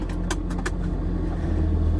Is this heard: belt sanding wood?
no